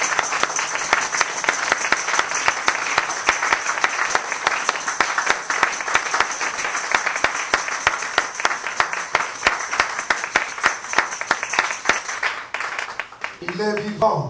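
Church congregation applauding during an evangelical service, a steady dense run of clapping that holds for about twelve seconds before breaking off, with raised voices coming in right at the end.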